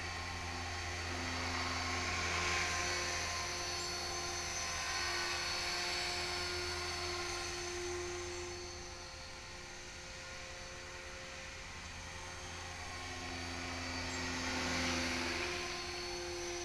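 An HK 450GT radio-controlled model helicopter flies nearby with a steady high-pitched rotor and motor whine, swelling and fading slightly as it moves, alone without talk.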